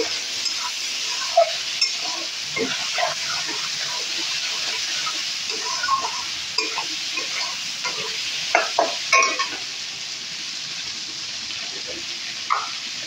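Spices and vegetables fry in a pan with a steady sizzle, salt and turmeric added, while a spoon stirs and scrapes in scattered knocks for making Bengali matar ghugni; no one speaks.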